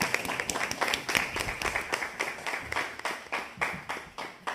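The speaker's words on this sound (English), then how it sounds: "If everyone can give a round of applause" A small group at a student council meeting gives a round of applause, with distinct, fairly sparse claps in an uneven rhythm, close and moderately loud, with no voices over it.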